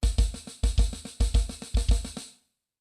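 Drum kit double stroke roll with bass drum kicks landing on the first two right-hand notes of each group: four quick bursts of paired hits in a bouncing rhythm, loud and close, then the kit rings out to silence.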